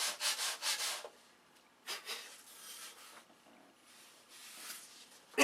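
Hand sanding of wood while shaping an airfoil, rough rubbing strokes in a quick burst of four, then a pause and softer, slower scraping passes, close and alone.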